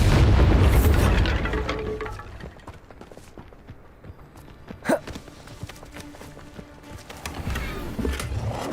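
A Bombarda blasting spell goes off in Hogwarts Legacy during a Natsai Onai side-quest duel, a heavy boom opening loud and rolling away, followed by a sharper mid-clip blast amid scattered combat thuds and footsteps.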